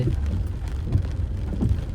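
Steady rain falls on the main bazaar street of Bodeli near the police station around 6:30 in the morning, a continuous dense hiss of drops with no voices.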